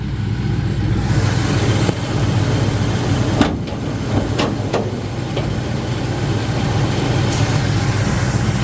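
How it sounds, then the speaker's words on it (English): A 1954 Ford F100 pickup, built as a hot rod, idles steadily with its hood open, a constant low engine rumble holding close and even throughout, with a few faint clicks partway through. "The engine just runs superb."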